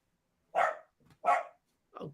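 A dog barks three times close by, two loud sharp barks and a softer third, with a faint yip between them and no talking.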